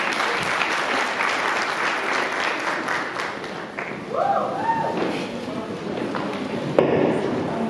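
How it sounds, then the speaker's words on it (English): Audience at a women in agribusiness conference giving a sustained round of applause, dense clapping throughout with voices and a few cheers rising midway. "I think they deserve a bigger round of applause"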